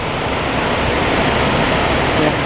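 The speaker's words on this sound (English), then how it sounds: "You can see the water coming from the top. You can hear it as well." A large waterfall in Norway pours down from high above, making a loud, steady, full-spectrum roar of falling water that never pauses and drowns everything else nearby.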